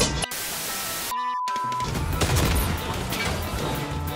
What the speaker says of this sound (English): Oh, grenade launcher. Grenade! Grenade heavy! Throw it back!